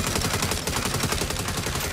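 A mounted turret machine gun in Saints Row fires one continuous rapid burst, loud and close, with rounds rattling out evenly throughout.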